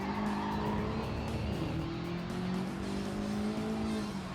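A Camaro race car in Gran Turismo 7 on PS5 drones with an engine note whose pitch shifts as it shifts and revs, while tires squeal steadily underneath through the whole clip.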